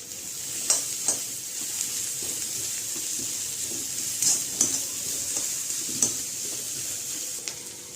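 Mushrooms, cabbage and capsicum sizzle in oil in a steady stir-fry hiss, with intermittent spatula scrapes and clinks close by and no talking.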